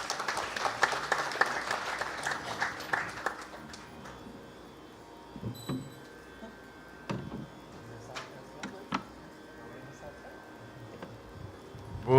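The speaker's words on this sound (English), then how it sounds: "join your hands again once more in a round of applause as we welcome Pandit Prakash Samsundar Tavari to the podium" An audience at a 50th birthday celebration applauds as Pandit Prakash Samsundar Tavari is welcomed to the podium. A full burst of clapping rolls for about four seconds, then thins to scattered claps and faint ticks in a quiet room.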